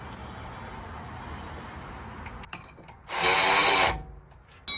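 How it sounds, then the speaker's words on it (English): Power tool tightening wheel bolts while fitting 15-inch drag rims to a BMW 335d, a steady whirring burst of about one second standing out from low workshop background, followed by a brief second start at the end. "grab the two bolts that were holding it and tighten them on"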